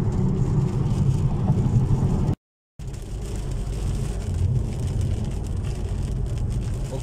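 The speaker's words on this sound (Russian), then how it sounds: "Эта дорога на бетонку похожа, поэтому как-то так шумит." A rental car drives in rain in Great Britain on a concrete-like road surface, giving a loud, steady broadband tyre roar with a low rumble throughout. The sound breaks off for a fraction of a second, then resumes.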